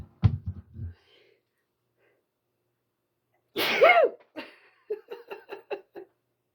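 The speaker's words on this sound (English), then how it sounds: "I gotta sneeze." A single loud sneeze bursts out after a brief pause, followed by a few soft, breathy laughs or sniffs, all very close.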